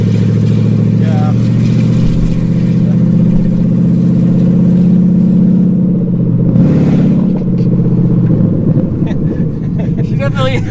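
A truck with a Gen 5 engine swap runs on its first test drive, its loud, steady engine drone filling the cab throughout, with a brief surge in revs partway through.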